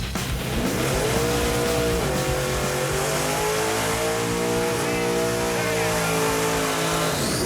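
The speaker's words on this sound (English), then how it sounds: "That is a proper burnout." Powerful engine of a 1970 Ford Mustang roaring at high revs with tires squealing under it, a loud continuous burnout close by, with voices faintly underneath.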